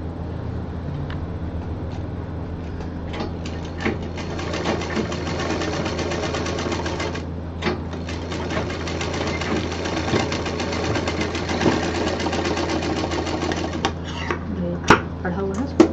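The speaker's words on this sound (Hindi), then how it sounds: "यहाँ पर हम डबल मशीन चला देते हैं" An electric sewing machine runs double rows of stitching on a DIY expandable bag, a close, rapid mechanical chatter that continues steadily, stopping only for a few brief pauses.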